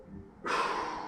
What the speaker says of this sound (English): I'm gonna breathe in